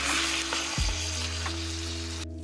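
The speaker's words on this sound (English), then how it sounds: "Next, I'm going to add in my petite diced tomatoes. And we're going to go ahead and give that a good mix." Petite diced tomatoes stirred into a hot pan of browned meat for chili, a steady close sizzle with a brief heavier scrape and clunk as the spoon mixes, no voices.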